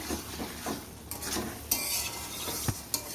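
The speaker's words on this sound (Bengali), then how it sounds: "ভালো করে ভাজতে হবে" Ground spice paste fries in a pan for a bottle gourd dish while a utensil stirs and scrapes, with a steady sizzle, a few sharp clinks against the metal, close up and alone.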